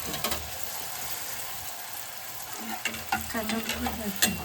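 Puri frying in hot oil in a home kitchen, a steady loud sizzle with bubbling crackle and a few sharp spatters near the end.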